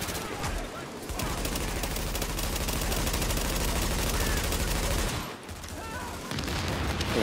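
Sustained rapid gunfire in Tom Clancy's The Division, dense automatic bursts firing almost without pause, loud and close, with a brief lull near the end before shooting resumes.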